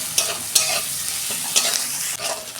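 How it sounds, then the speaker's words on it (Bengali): Onions frying with a little salt in a pan, a steady sizzle punctuated by a few crisp stirring scrapes, close and with no talking. "দু মিনিট আমি পেঁয়াজটা ভেজে নেব। অল্প নুন দিচ্ছি পেঁয়াজে।"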